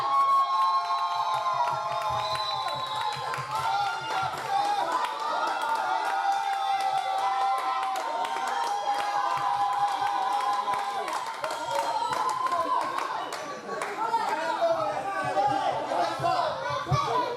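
A church congregation claps and cheers in praise, a steady wash of clapping, voices and chatter filling the room throughout, with a brief dip before it swells again.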